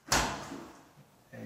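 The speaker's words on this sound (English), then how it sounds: "Roll it forward, then just snap in." A broken door handle on a GE stackable dryer snaps into place with one sharp click-thud up close, followed by faint handling noise and a soft knock at the end.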